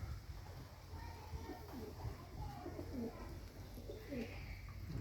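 Pigeons in a loft give low, soft repeated coos at irregular intervals over a steady background hum, faint and fairly close, with someone speaking quietly among them.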